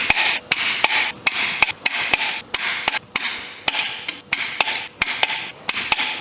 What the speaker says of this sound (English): Right in here we have the 8 bolts E12 that we will torque to 10 Newton meters.